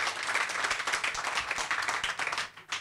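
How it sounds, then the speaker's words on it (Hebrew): An audience at an open-source community talk in Israel claps for a speaker, a fairly faint, steady patter of many hands that thins out and fades near the end. "נמצא כאן, ראוי למחיאות כפיים."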